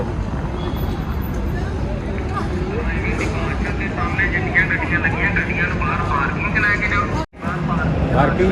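An airplane's engines roar steadily at Amritsar airport, a broad rumbling drone that fills the scene while people talk over it.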